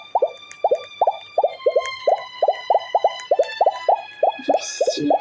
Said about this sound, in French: Le son des bulles qui éclatent